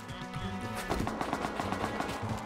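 Rapid automatic gunfire in the survival game Rust, a dense burst of repeated shots fired close and loud, with faint voices underneath.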